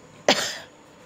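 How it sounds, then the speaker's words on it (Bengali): A single short cough from a person who is unwell, sharp and close, followed by a brief fading breathy tail in an otherwise quiet room. "কাশি খুব খুব করে কাশি হয়েই যাচ্ছে"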